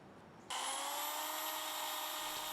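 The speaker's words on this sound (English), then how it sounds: "After drilling pilot holes with a countersink bit to prevent splitting" A power drill with a countersink bit bores pilot holes into wooden boards, starting abruptly into a sustained high whine that holds steady and close for a couple of seconds.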